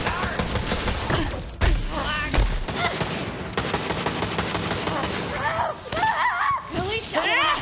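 Gunfire in the video game Borderlands 3 comes as loud, dense bursts of shots and thuds mixed with game sound effects and music, with voices speaking over the action throughout.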